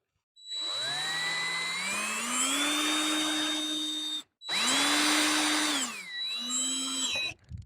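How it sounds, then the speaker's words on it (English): A power drill whines steadily at high speed drilling a hole near a Harley-Davidson Road Glide headlight for halo vent lights, pitch rising as it bites in, stopping briefly, then two more shorter bursts. "Just take your time and just drill the hole."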